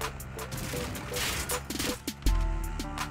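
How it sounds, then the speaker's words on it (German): Gunfire in the video game Warzone, a few sharp cracks and a burst of rapid shots over game sounds, with a louder close hit near the end. "Er hat auf mich geschossen."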